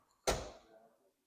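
A used Ford car's door, a 1.5 petrol automatic at a dealership, shutting with a single solid thud that dies away within a second, fairly quiet and heard alone.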